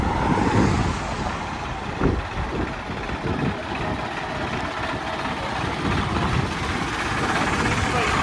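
A tractor's diesel engine runs nearby with a rough, continuous low rumble, a few louder bumps, and faint voices underneath.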